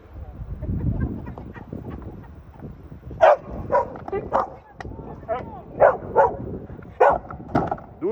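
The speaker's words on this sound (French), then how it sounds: "Doucement les chiens." Dogs barking on the sidelines of an amateur football match, sharp yips and barks in a loose irregular series over crowd murmur and talking, with people speaking throughout.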